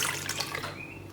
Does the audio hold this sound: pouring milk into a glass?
yes